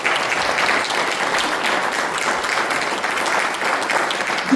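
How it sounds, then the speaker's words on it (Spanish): Steady applause from a church congregation, a dense wash of clapping that holds evenly throughout with no pauses. "Denle un aplauso a Dios."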